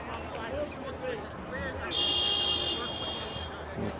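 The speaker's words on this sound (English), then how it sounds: "That's a Lauderdale fan just going a little early with the distracting horn beep" A spectator's horn beep sounds at a senior men's football match, a steady tonal blare lasting under a second amid crowd noise and commentary talk.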